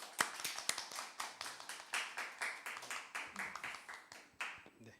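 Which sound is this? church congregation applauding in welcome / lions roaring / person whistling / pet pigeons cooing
church congregation applauding in welcome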